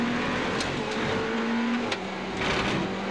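A Ferrari Challenge race car engine drones steadily at the Valencia circuit with a low buzzing rattle as tires run over rumble strips, with brief sharp clicks and a few tire noises along the way.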